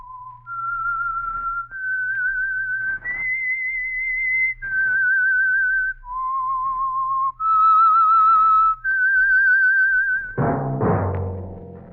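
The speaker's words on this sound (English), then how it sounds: "That whistle is your signal for the Signal Oil Program, The Whistler." A lone whistler performs the eerie theme of the Signal Oil radio mystery program The Whistler, a slow melody of sustained pure notes with brief pauses, ending in an orchestral chord.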